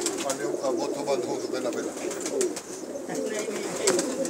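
Pigeons from a breeder's loft coo steadily, some near and some farther back, with the throaty calls running throughout beneath someone talking over them.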